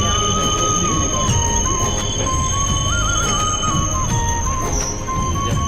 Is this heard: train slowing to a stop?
yes